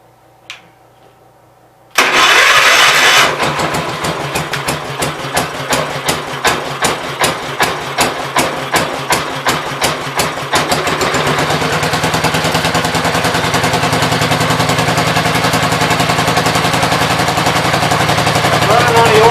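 A Gravely 810 tractor engine running on old fuel cranks and catches after a quiet start, firing in loud rapid pops before settling into a steady, rough, close-up idle.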